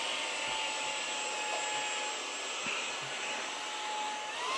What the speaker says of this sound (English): I have to use my little vacuum to clean it up because it's bothersome.